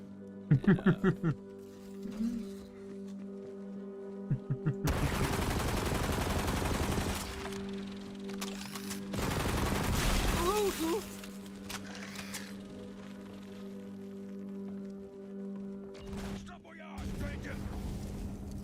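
Rapid gunfire on a Wild West–style planet in Borderlands 3, with short staccato bursts of shots and longer, noisy spells of sustained fire, set among music and a talking voice.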